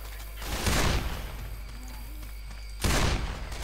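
Two loud broadband bursts of gunfire in Left 4 Dead 2, one near the start and another toward the end, separated by a quieter stretch of game ambience.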